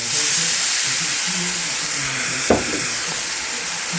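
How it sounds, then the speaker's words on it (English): Wine poured onto toasted rice for lobster and mushroom risotto sizzles and hisses steadily in a hot pan, a loud, close, continuous frying noise with a brief clink partway through. "This is where we're going to add our wine."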